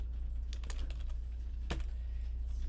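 Keys clack on a computer keyboard in a quick uneven burst, a few clustered taps then a sharper single press, faint against a low steady hum.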